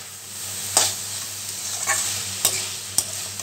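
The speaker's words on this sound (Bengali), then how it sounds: "আলু কল্লা পেঁয়াজ দিয়ে ভাজা," Potato and raw banana frying with onion in a pan: a steady, close sizzle with four sharp scraping stirs of a spatula at irregular intervals, over a faint low hum.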